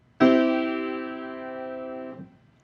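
A triad played harmonically, all three notes struck together as one clean sustained chord that rings for about two seconds and then stops, quiet and alone.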